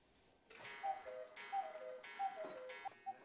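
Cuckoo clocks tick steadily in a small family clockmaker's workshop in Triberg, with crisp, evenly spaced ticks and faint ringing tones repeating about every second, close and fairly quiet, with no talking.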